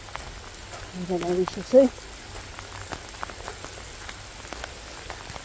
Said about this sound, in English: Oh, I'm really enjoying the rain